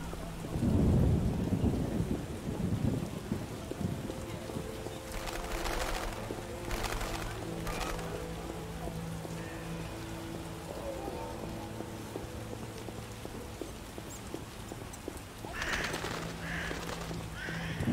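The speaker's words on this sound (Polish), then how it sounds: "Pada i pada." Rain and rolling thunder in The Witcher video game, steady rainfall hiss with a deep rumble early on and more thunder later, under background game music.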